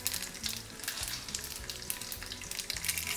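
Mustard seeds and cumin sizzle and spatter in hot oil as a tempering for curd rice, a loud continuous frying crackle with small pops, no voices.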